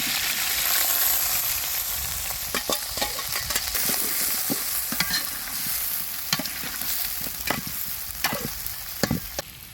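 Small onions sizzle and crackle in hot oil with fenugreek for a traditional fish curry while a spoon stirs them steadily, giving repeated sharp scraping clicks over a constant frying hiss. No one speaks.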